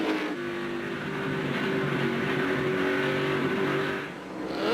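NASCAR stock cars race at the 2002 New England 300, their loud V8 engines droning and rising in pitch as they power off a turn, with a sustained roar that briefly dips before swelling again.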